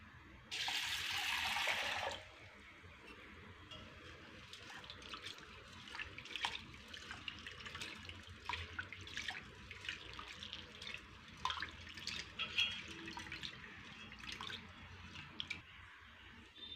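Toor dal lentils being washed with water in a bowl: a brief loud gush of running water first, then quieter sloshing, dripping and squishing of wet lentils being rubbed by hand.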